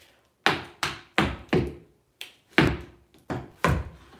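Tap shoes striking a studio floor in a dance class, eight crisp separate heel and toe hits in an uneven rhythm with short gaps, close and clear with no talk.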